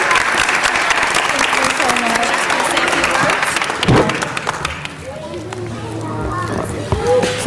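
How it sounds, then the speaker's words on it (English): A crowd at a city council meeting claps in a loud, dense burst of applause that gradually thins out, with a few voices murmuring underneath. "Let's give her a great round of applause"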